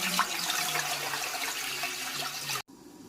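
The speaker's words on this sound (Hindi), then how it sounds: "सबसे पहले 4 गिलास पानी ऐड करेंगे" Four glasses of water poured steadily into a cooking pot on a lit stove while making gajrela, a rush of splashing liquid that runs for over two seconds and then cuts off abruptly.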